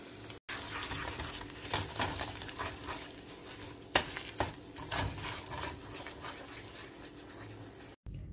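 Eggs, bacon, spinach and onions being scrambled in a sizzling pan, a utensil scraping and clinking against the metal in uneven strokes over a constant close frying hiss.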